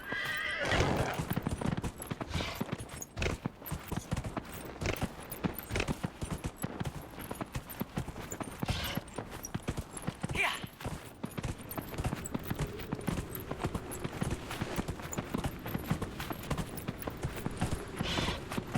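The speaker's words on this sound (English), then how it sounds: "I don't know if the horse is actually faster, though, than just walking." A horse gallops in the video game Dragon Age: Inquisition, its hooves beating a fast, steady rhythm throughout, with a neigh near the start and a light drone of game ambience behind.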